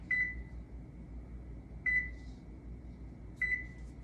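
Three short electronic beeps sound at even intervals, a steady high tone from a microwave keypad as its timer is set, clear against a quiet room.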